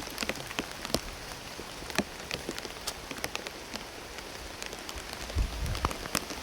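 Heavy storm rain pours down steadily on surfaces outdoors, a dense continuous hiss broken by scattered sharper drop impacts, with a low rumble swelling near the end.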